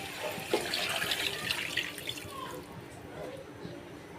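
Water poured into a cooking pot of beef with potatoes makes a soft, fairly faint splashing gurgle that is strongest in the first couple of seconds and then trails off.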